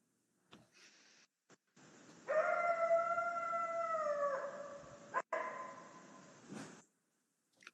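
A coyote in Maine gives a long, wavering, close howl that rises and holds, then breaks off into a short, dog-like bark and woof at the end, alone in quiet surroundings.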